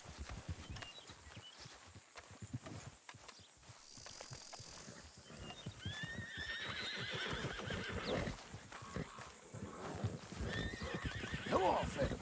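Horse in the Red Dead Redemption II video game whinnying and clip-clopping along at a walk, the hoofbeats steady and close, with someone talking over most of it.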